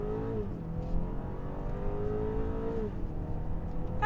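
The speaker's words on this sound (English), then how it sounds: "Exhaust sounds pretty good." A 2022 BMW X4 xDrive with M Sport suspension, in Sport Plus mode, accelerates hard from a standstill; a steady, loud engine and exhaust drone rises in pitch through the gears, with a brief dip at a shift, heard from inside the cabin.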